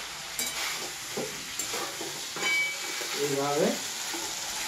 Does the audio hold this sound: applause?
no